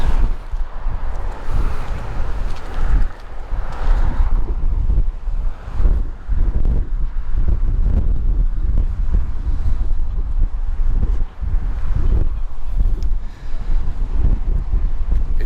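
Strong coastal wind near Makapu'u Beach, Oahu, buffets the microphone in loud, continuous gusts, with a deep roar that rises and falls throughout.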